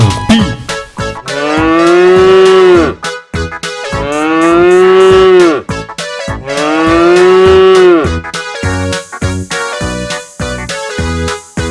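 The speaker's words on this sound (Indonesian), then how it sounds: "Sapi." Cartoon cow mooing in an animated farm-animal scene, three long, loud, drawn-out moos in a row over bright plinking music that carries on at the end.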